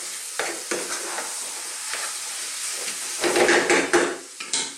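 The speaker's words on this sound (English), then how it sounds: "Give this a good mix." Beef and potato curry is stirred in a sizzling pot, with a steady frying hiss and repeated scraping strokes of a spoon against the pan, close and fairly loud.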